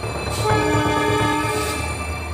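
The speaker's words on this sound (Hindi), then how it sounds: "पटरियों पर तेज रफ्तार ट्रेन दौड़ी भागी आ रही है, हॉर्न पर हॉर्न बजा रही है" A fast-moving train blares its horn, a loud sustained multi-tone blast over the heavy rumble and rhythmic clatter of wheels on the rails, close by and without voices.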